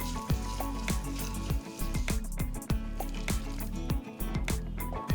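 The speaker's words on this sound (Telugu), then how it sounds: "ఒక్కసారి కలుపుకుని వెంటనే ఈ తాలింపుని పెరుగు సేమియా పైన వేసుకోవాలి" Hot tempering of asafoetida and curry leaves crackles and sizzles as it is poured over curd semiya, a steady frying hiss with soft splashy bursts throughout.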